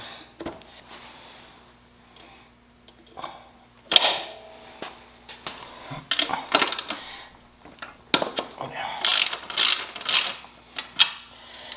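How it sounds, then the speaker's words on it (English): Cotter pin being worked out of the rear axle of a 2004 Honda Rebel CMX250 motorcycle: sparse metallic ticks and scrapes that grow into a busier cluster of sharp clinks and clicks toward the end, close up and with no talking. "Just gonna take out the cotter pin."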